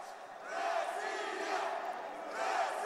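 A Russian crowd roars and cheers in Sofia's main hall during a boxing final, a steady dense wall of voices that swells near the end.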